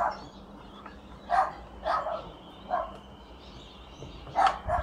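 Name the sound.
dogs barking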